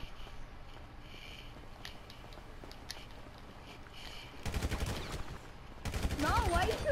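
Gunfire in the video game GTA V, rapid automatic bursts crackling in near the end over a low game background, the second burst louder and longer.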